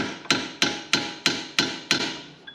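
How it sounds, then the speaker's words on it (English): A hammer strikes a stuck car in a garage, six evenly spaced sharp metallic blows, close and ringing, with no voices. "Sometimes you just need a good old hammering."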